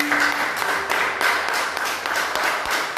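A church congregation clapping in praise, dense continuous applause with overlapping claps from many hands, loud and sustained for the whole stretch.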